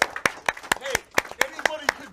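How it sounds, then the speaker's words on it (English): Audience at an E3 2018 live show clapping, sharp handclaps in an uneven rhythm cutting through voices and cheers close by. "Keep clapping."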